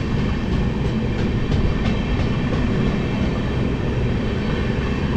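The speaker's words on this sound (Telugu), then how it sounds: "Konark express Lokmanya Tilak to Bhubaneswar." The Konark Express, running from Lokmanya Tilak to Bhubaneswar, pulls out on the main line with a loud, continuous rolling rumble and a steady rhythm of wheel clicks, with no voices over it.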